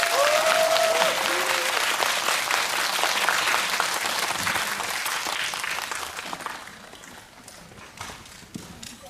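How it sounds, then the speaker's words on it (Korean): An audience in a cinema hall at CGV Yongsan applauds at the end of a film Q&A, a dense crowd of clapping that starts loud and gradually thins and fades over about nine seconds. "세 분께 박수 드리면서 오늘 자리 마무리하겠습니다"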